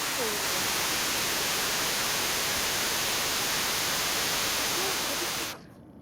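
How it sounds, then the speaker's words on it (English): River water flowing past trees at a park in Decorah, Iowa, makes a steady, dense rushing hiss that holds at an even level, then cuts off abruptly just before the end. "You hear the water?"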